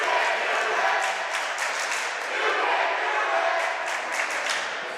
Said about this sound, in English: A lot of noise from the student body.